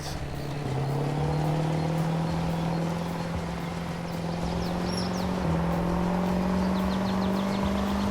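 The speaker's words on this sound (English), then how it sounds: "I can gun it now because there's no camera here." A farm vehicle in Farming Simulator 22 revs and accelerates. Its loud, steady engine drone climbs in pitch, dips briefly at a gear change midway, then keeps rising.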